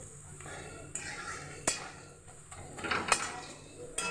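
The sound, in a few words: stirring spices (chilli powder, turmeric) in a pan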